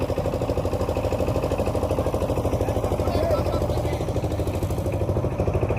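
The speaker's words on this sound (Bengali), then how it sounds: "দেখ না, আমাদের নৌকা চলছে এখন।" Motorboat engine chugging steadily at close range with a rapid regular pulse throughout, carrying people on a river trip, with voices talking over it.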